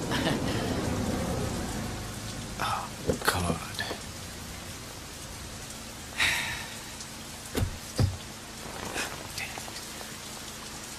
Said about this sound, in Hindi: इतनी बारिश में प्रोग्राम कैंसिल नहीं कर सकते थे